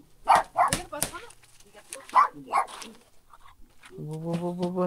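A dog barks several times in quick, loud bursts close by, followed by a voice speaking over a tonal hum near the end.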